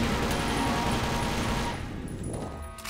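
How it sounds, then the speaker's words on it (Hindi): Dense rapid gunfire in the first-person shooter TimeShift, a loud continuous burst of automatic fire that thins and fades after about two seconds. "यूँ नहीं पता कि अंदर गोलियां चल रही हैं"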